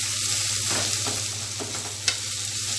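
Tomatoes sauté in a hot pan, giving a steady close sizzle under occasional soft spatula stirs and one sharp scrape near the end, with no voices.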